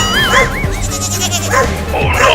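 A cartoon goat kid bleats loudly in wavering cries, mixed close up with a dog barking, both sounds overlapping in a short burst of animated animal noise.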